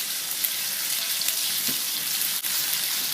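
Ginger and garlic paste frying in hot oil, giving a steady, dense sizzle that holds at an even level throughout with a few small pops and crackles, close by and with no talking.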